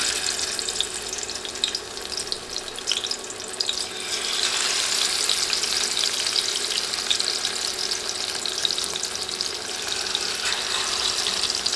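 Fish pieces drop into hot oil, which jumps into a loud, bright, continuous sizzle after a quieter start and holds steady and close.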